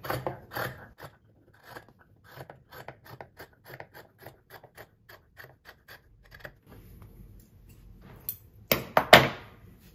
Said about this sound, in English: I will try to keep it very close here and cut through both sides of the fabric.